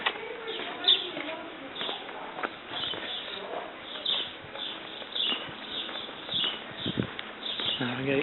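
Birdsong and soft chirps drift through a narrow old Tuscan village street inside a hilltop borgo, mixed with murmuring voices of people at Saturday lunch and occasional footsteps, steady and moderately distant.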